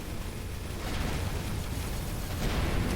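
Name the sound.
cannon fire in the video game Avorion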